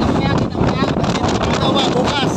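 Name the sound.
strong wind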